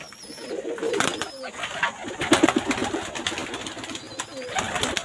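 Pigeons cooing while being fed, repeated low coos close by, mixed with clicking and scratching noises, light wing movement and some speech-like sounds.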